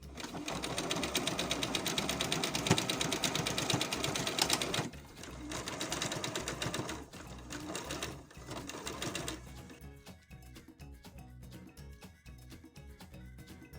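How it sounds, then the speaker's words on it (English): A sewing machine stitches loops onto the back of a sleeveless coat, running in a loud continuous whir, pausing briefly, then resuming before giving way to quieter, sparser mechanical clicks near the end. "I'm about to sew them on"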